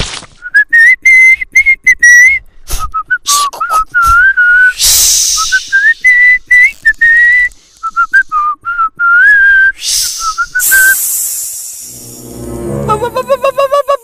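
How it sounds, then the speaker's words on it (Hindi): A loud human whistle meant to charm a snake, warbling in short repeated phrases with brief breaks and a few noisy bursts in between. "सीटी बजाओ, सीटी ऐसे"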